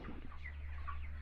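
Month-old broiler chickens, 28 days of age, on a poultry farm give soft, scattered clucks, fairly faint over a steady low hum of farm machinery.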